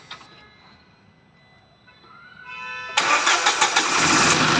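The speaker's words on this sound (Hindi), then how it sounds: "अभी गाड़ी हम बंद करवा के वापस से सेल मार रहे हैं।" A diesel vehicle with an overheated silencer is cranked and fires up: a quiet starter whir builds for a few seconds, then the engine catches abruptly and settles into a loud, rough, pulsing idle close by.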